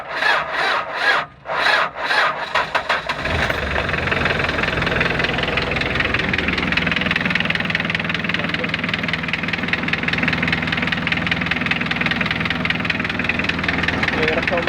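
A long-unused engine, preheated with its heater, cranks in a few uneven labored pulses before catching and settling into a loud, steady, rough-running drone.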